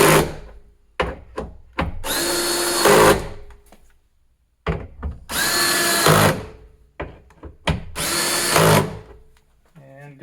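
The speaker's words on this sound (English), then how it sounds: "I will use an attachment with the drill" A power drill with a bit attachment whirs in three sustained bursts, driving bolts while fitting a tailgate table to a 2021+ Ford Bronco, loud and close, separated by clicks, knocks and handling noises.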